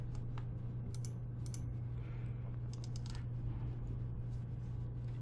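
Typing on a computer keyboard while plotting a function in math software, a few scattered light key clicks over a steady low hum, close and fairly faint, with no talk.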